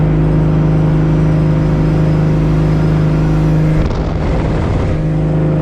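A vintage boat engine runs at full throttle with a loud, steady droning roar that dips and wavers briefly near the end, heard close with no speech.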